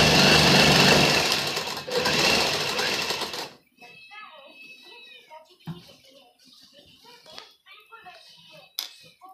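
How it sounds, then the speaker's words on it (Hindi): Sewing machine stitching the folded hem of a kurti, a loud continuous whirring run for a few seconds that then stops, followed by someone speaking over quiet room sounds. "अब हमें सीधा ये इसके ऊपर सीधा करके सिलाई लगा देंगे।"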